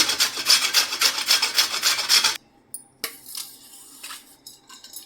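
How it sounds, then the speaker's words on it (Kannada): Dried coconut grated by hand, a rapid rhythmic rasping close by for about two seconds, then quieter scattered scrapes and taps. "ಹಾಗೆಯೇ ಕೊಬ್ಬರಿನೂ ಕೂಡ ನಾನು ತುರ್ಕೊತಾ ಇದ್ದೀನಿ"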